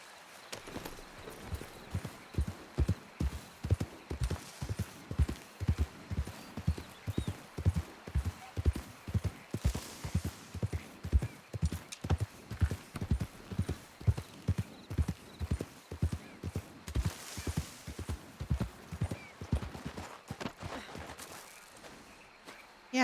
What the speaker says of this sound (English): Let me get my horse.